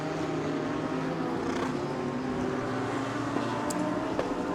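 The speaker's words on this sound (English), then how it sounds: "The Porsche going slowly, well, as fast as it can" A Porsche GT4 race car drives steadily in qualifying at Buriram, a continuous engine drone heard from a distance, with no talk over it.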